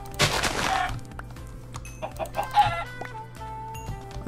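Chickens in a video game cluck and squawk in bursts, with scattered clicks and faint background noise between the calls.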